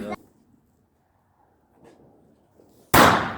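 A sharp, loud firecracker bang bursts suddenly near the end after quiet rustling, with a brief voice at the very start, at a New Year celebration.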